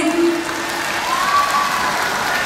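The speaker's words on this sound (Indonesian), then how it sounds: "Boleh kita kasih tepuk tangan sekali lagi" An audience at a cooperative's annual meeting closing ceremony in Nusa Tenggara Timur, Indonesia, applauds in a steady, even wash of clapping, with faint tonal whines through it.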